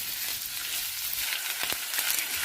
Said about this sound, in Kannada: ಆ ರೀತಿ ಆಗೋಷ್ಟು ಒಂದು 10-12 ನಿಮಿಷ ಹುರಿಬೇಕಾಗುತ್ತೆ